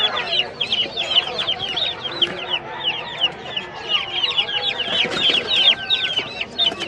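A crowd of chicks at a Bocaue pet market peep constantly in rapid, high overlapping chirps, close and busy, with some faint talk and handling noise underneath.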